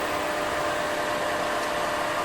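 Steady broadband jet engine roar inside a Boeing 737 as one engine is shut down after a failure, a dense, even rush that holds constant without pause or speech.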